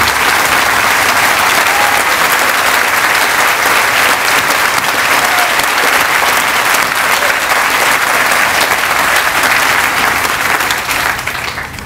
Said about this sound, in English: if they would stand and you could give them a round of applause for the work that they've done